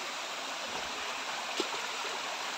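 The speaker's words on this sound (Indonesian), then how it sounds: "Ada lagi air terjun di sini." Stream water and a small waterfall rush steadily and fairly loud along a jungle creek, a continuous broadband wash with faint gurgling throughout and no voices.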